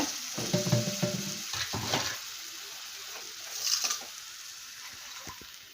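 Okra and a ground spice paste stirred together in a sizzling pan for Kerala-style kara kuzhambu, with scraping and clinking of the spoon in the first two seconds, then a quieter steady sizzle with a brief stir near the middle.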